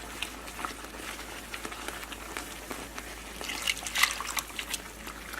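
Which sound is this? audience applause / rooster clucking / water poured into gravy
water poured into gravy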